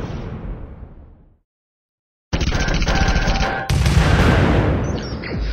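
The Apocalypse Mark 1 weapon fires in the mobile game Super Mechs: a loud burst fades out, silence follows, then heavy rapid automatic fire blasts continuously, near and powerful.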